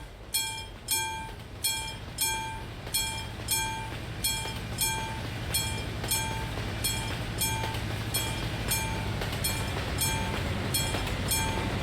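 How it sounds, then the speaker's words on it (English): A train passing in the Euro Truck Simulator 2 game gives a steady, regular clickety-clack of wheels over rail joints. The clacks are loud at first and then run on as a continuous rolling rumble. No one speaks. "Man, those trains. They're everywhere."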